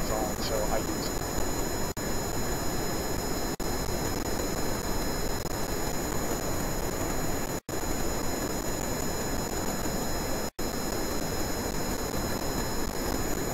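A steady, droning engine roar of a coaxial-rotor AH-11 Dragonfly helicopter in a video game runs continuously at a moderate level, with a few brief dropouts and no voices.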